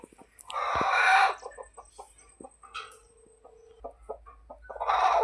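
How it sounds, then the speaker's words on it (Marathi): A country hen being set on eggs clucks in short bursts, close by, with louder harsh calls at the start and end and quieter clucks between. "आपण ही पहिली कोंबडी बसवली आहे"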